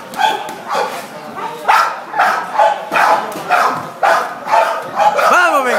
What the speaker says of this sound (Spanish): vaya combate de cachorros